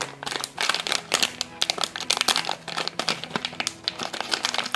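Funko Pint Size Heroes Disney blind packaging torn and crinkled open by hand, a busy run of close, loud crackling rips and rustles with no talk.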